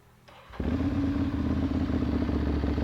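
A 2013 Ducati Monster 795 ABS fitted with an Italian aftermarket exhaust starts up: a brief starter whir, then the engine catches and settles into a loud, steady, throaty idle.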